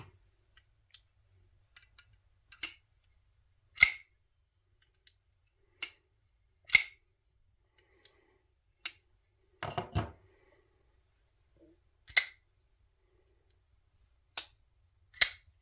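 A Microtech knife opened and closed in a shop, giving sharp metallic clicks and snaps, scattered singly and in quick pairs with quiet gaps between, close and crisp.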